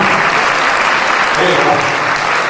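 A crowd at a Bhagavat religious gathering claps steadily and loudly in devotion to God, a dense continuous wash of hand claps with voices mixed in.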